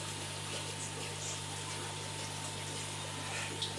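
Water runs through an autofill stop valve into an aquarium tank, heard as a faint, steady hiss over a constant low electrical hum, with no talking.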